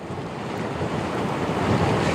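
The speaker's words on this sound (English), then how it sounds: "So that's the kind of wind that we are seeing right now." Hurricane-force gusts from Hurricane Florence roar as a loud, dense, unbroken rush of wind that swells slightly toward the end.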